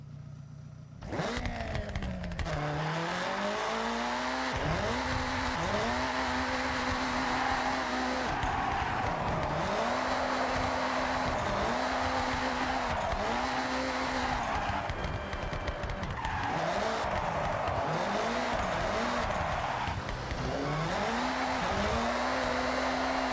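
A drift car on drift tires slides through wet weather in the Forza Horizon 6 racing game, its engine droning steadily throughout with repeated rising and falling revs and tire squeal as it swings through corners.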